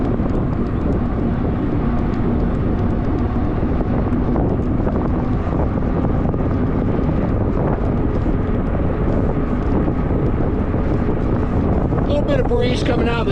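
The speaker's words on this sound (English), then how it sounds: "Breeze coming out of the southeast today, the direction I'm going in." Steady wind buffeting the microphone during a ride on a 20-inch fat tire Zephyr Zota folding bike in a light southeast breeze, a constant loud rumble throughout with someone talking over it.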